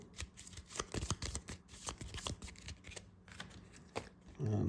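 A deck of cards for the Slay the Spire board game is shuffled up close in quick riffling bursts, soft and crisp, ending with a brief thump.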